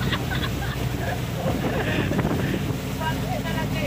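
Wind roars over the sea around a boat during Super Typhoon Goring, with rain and waves. The buffeting is loud and constant and close to the microphone throughout.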